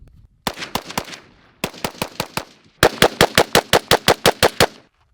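A Sig Sauer MCX Regulator rifle firing 5.56 rounds cracks out sharp, loud shots in three strings, three and then four spaced shots followed by a faster run of about eleven, each with a brief echoing tail.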